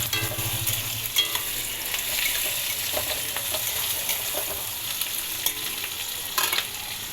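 Soybean chunks fry on high flame in a pan, a steady close sizzle with occasional stirring clinks and scrapes, no voices present.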